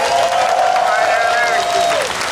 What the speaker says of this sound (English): Let's give Alex one more round of applause.